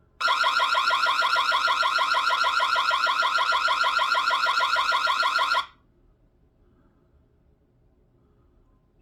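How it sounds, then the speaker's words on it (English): A SOVMIKU solar wireless security camera's loud, steady electronic alarm tone pulses rapidly for about five and a half seconds, then cuts off abruptly into near silence. "Here's the audible alarm."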